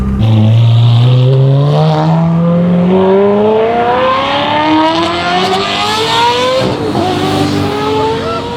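Ferrari Pista cars arrive at a Ferrari event, their loud engines sweeping upward in pitch and passing close by as several cars follow one another, with no talk.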